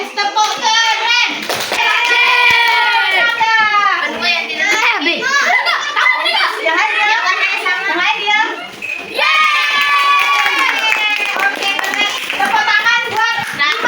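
Children at an inclusive school clap their hands in a group clapping chant. Rhythmic claps mix with loud, close children's voices chanting and calling out together throughout.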